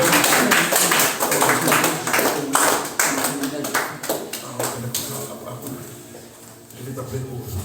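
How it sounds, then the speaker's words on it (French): Congregation clapping and applauding the Lord during a church service, a loud, dense round of applause that slowly thins toward the end, with a voice speaking over it. "Acclamons très fort le Seigneur."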